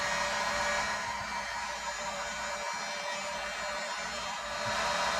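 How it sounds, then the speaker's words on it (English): Heat gun blows a steady, loud whooshing stream of hot air over heat-shrink tubing on a wiring splice, unbroken throughout with no talk. "Fire up the heat gun."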